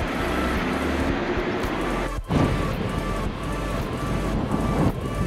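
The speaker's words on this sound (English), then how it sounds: "It's really windy as always" Strong wind blows across an open roadside park by the surf, roaring steadily into the microphone with brief dips, loud and continuous throughout.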